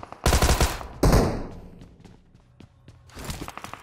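Automatic gunfire in PUBG Mobile: two loud, rapid bursts close together near the start, followed by softer scattered shots, thuds and game noises.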